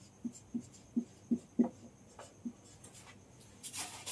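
Chalk or marker writing on a classroom board during a chemistry lecture, a string of quiet separate taps and short strokes that come in a loose rhythm, followed by a brief scrape, with no voices.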